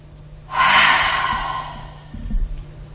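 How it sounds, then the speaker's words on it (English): A single deep breath drawn in as someone stands before a mirror, rising into a loud, airy rush that lasts about one and a half seconds and then fades, with no talking. "watch yourself take this deep breath"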